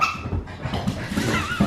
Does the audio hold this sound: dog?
yes